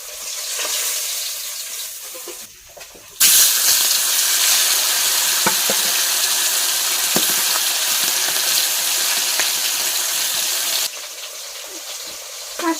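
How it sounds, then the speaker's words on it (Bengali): Pieces of rupchand fish sizzle in hot oil in a pan with a loud, dense crackle that swells suddenly after a quieter start, holds steady, then drops back near the end. "এই মাছগুলো ভেজে নিয়ে আবার যেগুলো বাকি আছে সেইগুলো আবার দিয়ে ভেজে নেবো।"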